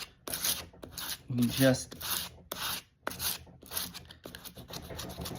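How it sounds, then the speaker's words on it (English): Hand sanding of a small patch of concrete with 120 grit sandpaper, heard as short rasping scrubbing strokes in an uneven rhythm, close by and fairly quiet, with someone briefly talking over it. "the sandpaper I got right here is 120 grit"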